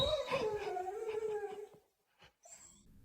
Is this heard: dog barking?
yes